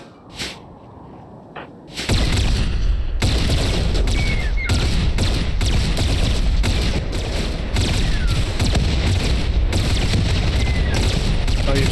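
Rapid plasma pistol fire aimed at a manhunting pack of minks in RimWorld, a dense, loud, unbroken stream of sharp zapping shots and booms after a quieter opening.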